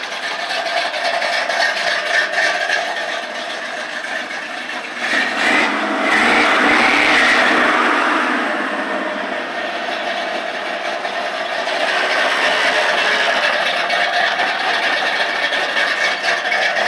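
The engine of a 1971 C20 shop truck with a couple of small exhaust leaks runs steadily nearby, a raspy mid-pitched drone that swells briefly with a rev before settling back to idle.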